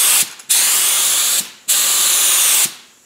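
An HVLP spray gun on compressed air gives three long, loud hissing bursts as the trigger is pulled, each cut by a brief silent gap.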